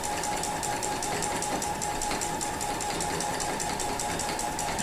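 A sewing machine with an embroidery foot free-motion quilting fabric, a steady fast needle chatter with a constant motor hum, close and continuous throughout with no talking.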